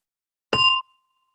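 A gong is struck once during a mindfulness meditation session, a single bright metallic ding that rings for a moment and then cuts off into silence.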